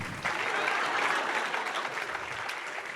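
An audience at a Cannes 2022 masterclass with Mads Mikkelsen applauds with steady, dense clapping from many hands, sustained throughout and heard from within the room.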